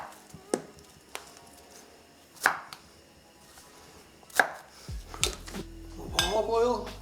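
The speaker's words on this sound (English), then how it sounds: "We're gonna thinly slice some onions." A kitchen knife thinly slices onions on a cutting board, giving a few sharp, well-spaced chops. A clatter of pans and utensils follows near the end under a quiet room background.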